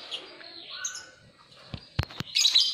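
Lovebirds kept for breeding chirp in short, scattered high tweets and a few sharper calls, fairly faint and close, ending in a brief burst of busier chattering.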